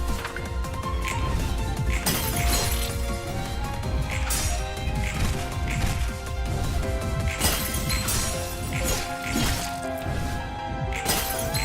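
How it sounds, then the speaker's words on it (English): Video game Library of Ruina battle audio with repeated glass-shattering crash effects punching through a continuous layered music and combat soundtrack, several sharp breaking bursts spread across the span. "Did I mention I really like that glass breaking sound effect?"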